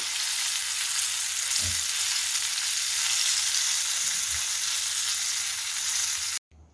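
Chicken pieces coated in a spice powder deep frying in hot oil, a loud, steady, close sizzle running unbroken before cutting off abruptly near the end.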